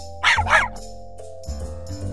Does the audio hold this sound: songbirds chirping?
no